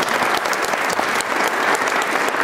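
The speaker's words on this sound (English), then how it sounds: "I think we should give all of the performers another round of applause" A Christmas recital audience gives the performers another round of applause, steady and loud with no pauses throughout.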